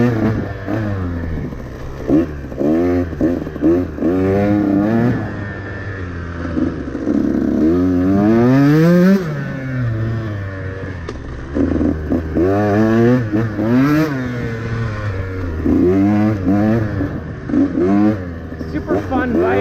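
A 150 XCW two-stroke dirt bike ridden hard in second gear, its engine loud and close with repeated rising and falling revs as it bogs and pulls, and a rider talking over it.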